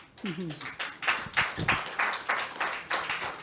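A single person claps at a public health forum, a series of about ten distinct hand claps in an uneven rhythm, close and moderately loud, with a brief voice near the start.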